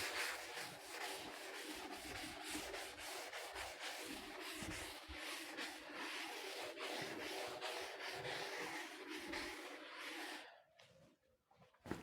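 Writing being rubbed off a board during a physics lesson: a continuous scratchy brushing with quick back-and-forth strokes, close and fairly quiet, stopping abruptly near the end.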